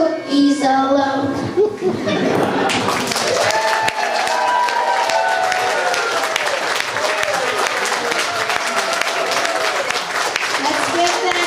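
Sustained applause from a school audience for young performers after a primary school gingerbread man play, dense clapping filling the room for about ten seconds, with children's voices and talk mixed in at the start.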